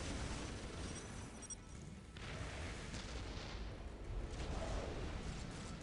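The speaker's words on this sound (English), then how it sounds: "That artillery having a huge effect already, keeping these troops on their feet" Artillery shelling in the real-time strategy game Dawn of War Soulstorm during a 4v4 battle, a steady, fairly faint wash of distant booming and rumbling fire throughout, with no distinct separate blasts.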